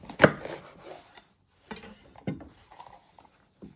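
A knife cuts the top off a pepper on a board, starting with one sharp close chop and followed by a few lighter knocks and taps.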